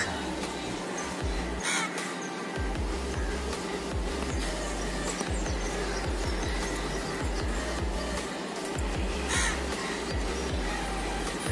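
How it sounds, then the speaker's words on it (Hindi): Crows caw repeatedly over a quiet residential street, their calls standing out against a steady low background hum, with other birds faintly calling in between. "खाली तुम लोग को चिड़ियों की आवाज़ आएगी"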